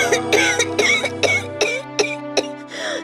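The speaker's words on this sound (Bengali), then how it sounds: "কাশিটা আবার বেড়েছে?" A mother in a Bengali fantasy adventure cartoon coughing: five or six harsh, throaty coughs at a steady pace, near and clear over a soft background tone.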